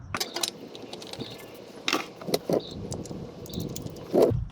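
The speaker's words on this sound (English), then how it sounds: "we're going to be wiping it down and screwing on the new filter" A new oil filter screwed onto the engine of a 1978 Chevrolet from underneath the vehicle, with close metallic clinks, light scraping and scattered taps of parts being handled, and no talking.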